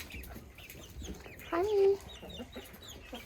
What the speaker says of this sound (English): out to the chickens to enjoy as a treat, and they are already loving it